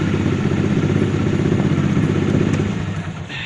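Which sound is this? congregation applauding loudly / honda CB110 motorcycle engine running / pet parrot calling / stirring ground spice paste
honda CB110 motorcycle engine running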